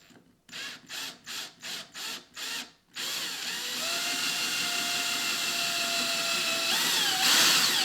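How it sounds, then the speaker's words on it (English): A power drill bores a shallow dimple into a wooden bicycle part, starting with six short bursts of whirring, then settling into one steady, loud run that ends in a brighter whine. "there is a little dimple there that we're going to drill"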